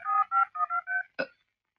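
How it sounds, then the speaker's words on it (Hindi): Five quick telephone keypad dialing tones beep in an even rhythm, followed by one short different tone, then silence, as a call is placed to a police station in a Bollywood action movie. "राणा साहब जाओ फोन लगाओ"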